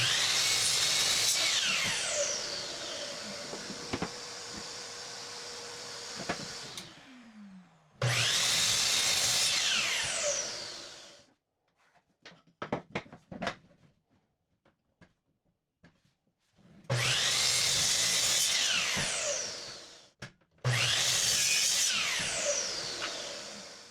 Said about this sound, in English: I sliced everything at 5 inches on a miter saw